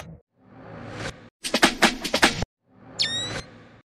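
Rising riser swells of noise build up, broken by a burst of rapid percussive impact hits, then another swell topped by a sweeping high tone, with no talking.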